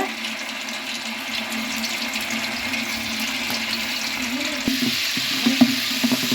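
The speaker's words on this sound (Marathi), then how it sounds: "तेल गरम झाले त्यातच आता टाकूया आलं लसणाची पेस्ट" Ginger-garlic paste hitting hot oil in a village-style kitchen while cooking chicken mutton curry, giving a continuous soft hiss and sizzle with a few louder crackles and pops near the end.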